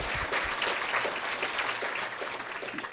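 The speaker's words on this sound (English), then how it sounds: "round of applause for all of them" An audience at a community awards ceremony honouring local legends applauds, dense continuous clapping spread across the room, steady throughout with no voices over it.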